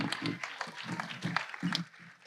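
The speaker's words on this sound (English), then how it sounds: "give them a round of applause." A modest round of applause from a chapel congregation welcoming seniors back from a mission trip, uneven and fairly soft, with scattered voices and chatter mixed into the clapping.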